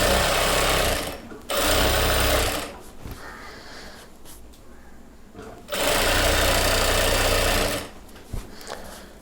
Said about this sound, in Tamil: நாடா போடுறதுக்காக இப்போது தைச்சிட்டு இருக்கோம்.